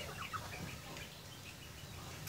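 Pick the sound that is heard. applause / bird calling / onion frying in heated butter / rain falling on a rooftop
bird calling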